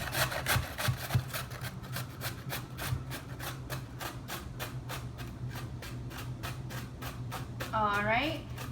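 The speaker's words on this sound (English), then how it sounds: "First thing we're going to do is we're going to get started grating." Ingredients for vegan latkes are grated by hand, the rapid rhythmic rasping strokes repeating close up at a steady pace, with a brief voice near the end.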